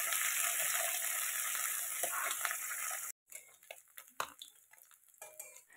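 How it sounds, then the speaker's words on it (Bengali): Pieces of fish frying in hot oil, turned one by one, give a dense, loud sizzle for about three seconds, then a break and a quieter patch of crackle and spatula clicks. "মাছগুলো আমি একে একে ওর মধ্যে দিয়ে এপিট ওপিট উল্টে ভালো করে ভেজে নেব"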